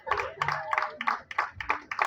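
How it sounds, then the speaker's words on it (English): Audience at a live show clapping as a volunteer is called up on stage, a sparse, fairly rhythmic series of distinct hand claps rather than a dense roar. "Give her a big round of applause as she comes on up here."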